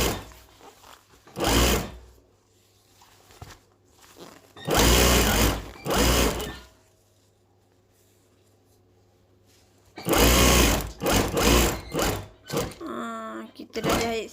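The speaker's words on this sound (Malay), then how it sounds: "Kita jahit sampai keliling lah." A sewing machine stitches around the waist of a layered fabric skirt in several loud bursts, with quiet pauses between runs and a final sputtering burst at the end.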